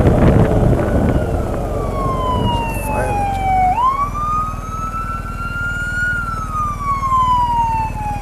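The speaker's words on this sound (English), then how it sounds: "There's a fire engine." A loud fire engine siren wails nearby, its pitch dipping and then rising into a long sustained tone, over the rumble of road noise.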